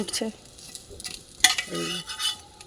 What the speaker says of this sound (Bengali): এবার সরু চাকলি ভাজা হচ্ছে বিউলির ডাল আর হচ্ছে চাল গুঁড়ো